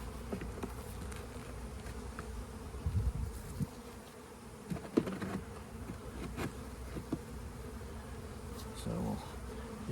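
Honey bees buzz steadily around an opened spring hive during a colony boost, a continuous low drone with occasional nearby insects passing close, plus faint handling knocks.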